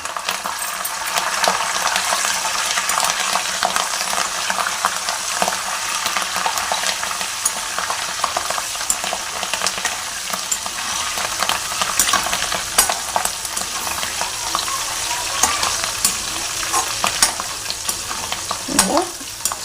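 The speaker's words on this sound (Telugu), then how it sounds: "ఇప్పుడు ఒక 8 కరివేపాకు రెమ్మలు తీసేసుకొని వేసుకుంటున్నామండి" Curry leaves fry in hot oil for an amla pickle, a loud, busy sizzle and crackle with stirring scrapes that runs continuously throughout, with no talking.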